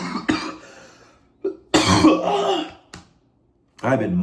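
Several harsh coughs from a person with a bad cold and congestion, in separate sharp bursts with short gaps, loud and close, with a rougher, longer fit in the middle.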